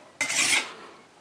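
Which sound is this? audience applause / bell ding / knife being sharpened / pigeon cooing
knife being sharpened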